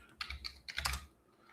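Fingers tap out two short bursts of keystrokes on a computer keyboard, quick close clicks separated by a brief pause, with no talk over them.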